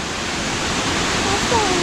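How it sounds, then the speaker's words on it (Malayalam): Water pours over rock at the Kozhippara waterfall between Malappuram and Kozhikode in Kerala, a dense, even rush of noise heard close and unbroken throughout. "നമ്മൾ വെള്ളച്ചാട്ടത്തിൻ്റെ അടുത്തോട്ട് എത്തിയിട്ടുണ്ട്"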